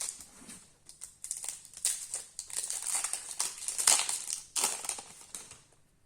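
Crinkly foil wrapper of a Yu-Gi-Oh booster pack being torn open and crumpled by hand, a close, busy run of crackling and rustling bursts with no talking.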